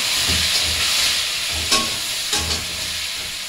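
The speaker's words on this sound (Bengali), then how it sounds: "একটু জল দেবো ভাজার জন্য, মশলা ছড়িয়ে দেবো মশলাটা আমার।" Spices sizzle in a pan after a splash of water, a close hissing crackle with a couple of brief louder bursts of steam and some soft low thumps, and no voices.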